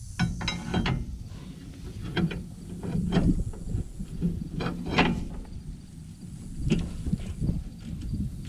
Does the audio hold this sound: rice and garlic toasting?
no